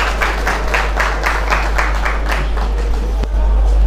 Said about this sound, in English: Please, a round of applause again for him for this wonderful lecture.